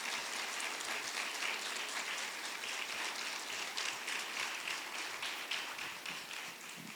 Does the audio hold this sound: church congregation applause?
yes